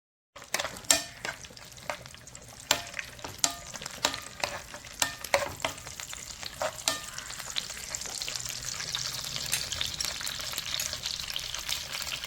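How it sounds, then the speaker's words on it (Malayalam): Raisins and cashews fry in about two spoons of ghee in a pan, a soft steady sizzle punctuated by repeated sharp clinks and scrapes of a spoon stirring, growing into a fuller hiss toward the end. "നമ്മുടെ മുന്തിരിയും കാഷ്യും ഒക്കെ ഒന്ന് വറുത്തെടുക്കാവേ."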